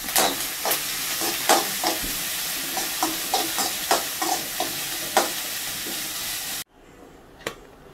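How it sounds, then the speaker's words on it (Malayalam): Chopped onions sizzle and hiss in a hot pan while a spoon scrapes and stirs them in repeated close strokes; the frying noise cuts off abruptly near the end, leaving faint quiet with one more tap. "അരിഞ്ഞു വെച്ചിരിക്കുന്ന സവാള ചേർത്ത് കൊടുക്കാം. സവാള ഒന്ന് ഇച്ചിരി ഒന്ന് വഴന്ന് വരുന്നവരെ ഇളക്കി കൊടുക്കാം."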